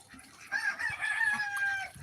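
A white rooster crows once inside a farm pen: a loud, drawn-out call sustained for well over a second, close to the listener, and there are scattered soft clucks and movement around it.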